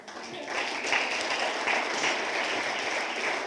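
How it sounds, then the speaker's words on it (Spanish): A church congregation applauds the Lord, with a swell of clapping that rises quickly and holds steady, and voices mixed in among the crowd. "Damos un aplauso al Señor."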